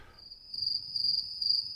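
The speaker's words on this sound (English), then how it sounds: "Ooh, I heard crickets there." A single cricket chirps in a steady, high-pitched trill, clear against an otherwise quiet background.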